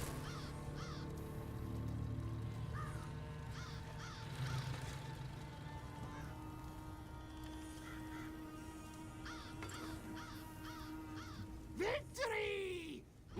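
Crows cawing in The Elder Scrolls Online, repeated harsh calls in short bursts over a steady game ambience with background music, a louder squawk near the end.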